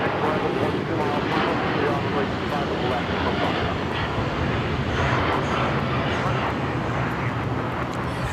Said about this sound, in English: This is Japan Airlines Flight 61 taking off to Tokyo Narita on the 787-9 Dreamliner.